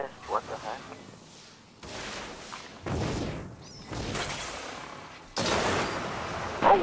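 Gunfire and blasts in the Destiny video game on a Trials of Osiris match, several heavy bursts with whooshing tails spaced a second or so apart, fairly loud and close.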